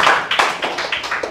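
A church congregation claps in quick, even rhythm, a run of about eight crisp, close claps in just over a second, with no voices standing out.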